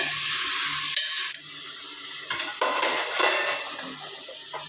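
Mutton fries in a pan with a continuous close sizzle, interrupted by stirring clatter and scraping of a utensil against the metal.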